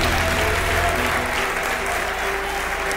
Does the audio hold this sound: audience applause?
yes